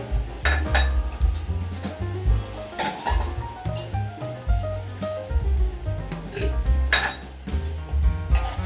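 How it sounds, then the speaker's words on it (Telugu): Tamarind juice goes into a pot of bitter gourd curry amid loud, close clatter of a ladle and vessels, repeated clinks and knocks with some splashing movement, no voices. "చింతపండు పులుసు మీరు పులుసు తినేటంతా వేసుకోండి, కావాల్సినంత వేసుకోండి."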